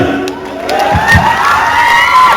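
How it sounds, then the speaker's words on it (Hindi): Crowd cheering and whooping at a public event in Madhubani, Bihar, a loud, continuous swell of voices with possible clapping mixed in, close and sustained throughout. "तालियां हो जाए"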